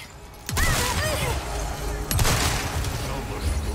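Gunfire from enemies in Resident Evil 4 Remake, with two sharp loud shots about a second and a half apart, each trailed by ringing and clatter, over a low game background.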